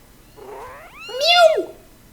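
A single drawn-out cat meow, rising then falling in pitch, loud and close, lasting about a second with no other sounds.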